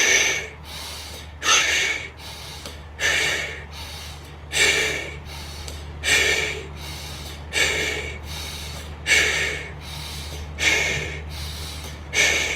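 Deep diaphragmatic breaths drawn in through both nostrils during a guided breathing exercise, eight or nine airy inhales repeating at a steady pace about every one and a half seconds, close and clear over a low steady hum.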